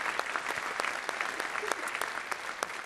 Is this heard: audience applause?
yes